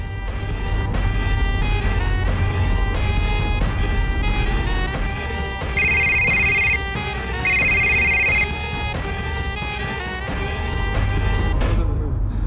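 Phone ringing on a call placed in a Hindi TV serial scene, two sustained steady ring tones standing out over a loud dense musical score, fairly close and clear.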